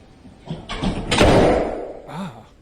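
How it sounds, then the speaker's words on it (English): A door slams shut with one loud, close bang that booms and fades over about a second, followed by a brief murmured voice. "Door slam."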